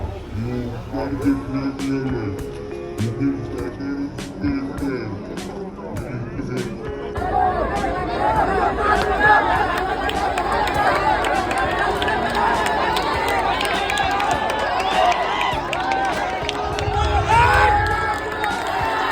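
A crowd roars at a Dahi Handi festival as a team completes a seven-tier human pyramid. Scattered shouts and chatter swell into a loud, sustained wash of cheering that carries on to the end, with voices talking throughout.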